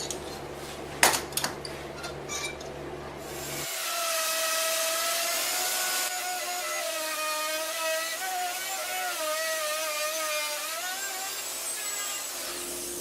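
A router cutting cavities into birch plywood, starting after a few knocks and clatters with a loud, sustained high whine that wavers as it bites into the wood.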